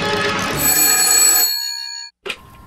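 A telephone bell rings loudly in one sustained burst, then cuts to silence, followed by a brief click as the line is picked up.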